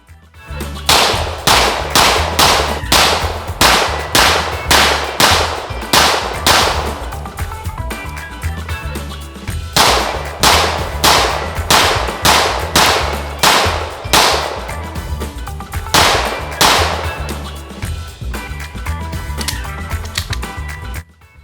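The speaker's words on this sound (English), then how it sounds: "This gun has 250 rounds through it now, and no issues at all." MAC 9DS Comp, a factory-compensated budget 2011-style pistol, firing 115-grain rounds: loud, sharp shots in quick, steady strings with brief pauses between magazines, close to the shooter and without talk.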